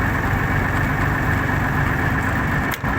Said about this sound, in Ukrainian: Двигун шестициліндровий тут.